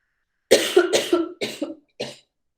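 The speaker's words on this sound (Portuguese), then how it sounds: "Um minutinho só, que me deu uma tosse." A lecturer in a discrete mathematics class for computing coughs: a close, dry fit of five coughs in quick succession, the last after a short pause, with silence around them.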